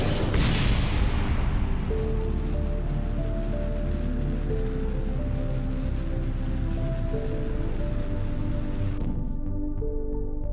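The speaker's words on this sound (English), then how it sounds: "the temperature of the one below will reach what the part can endure, and then it will explode" Explosion of a solid booster during hot staging in Kerbal Space Program, a loud opening boom that settles into a sustained roaring rumble of rocket exhaust with a sharp crack near the end.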